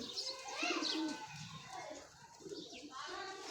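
A pigeon coos softly and close by in a few low, throaty rolling calls, quiet overall and heard without talk over it.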